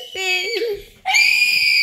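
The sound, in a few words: person screaming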